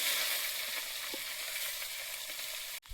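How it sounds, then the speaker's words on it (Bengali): Nigella seeds, onion, tomato and green chillies frying in oil give a steady, close hiss of sizzling that runs the whole time, with a faint stir near the end. "তেলে দেবো কালো জিরে পেঁয়াজ টমেটো আর কাঁচা লঙ্কা"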